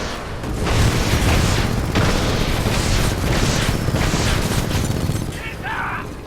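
Salvo core rockets from a Titan in Titanfall 2, heard as a loud sustained stretch of booming explosions and rumbling blasts that fades toward the end.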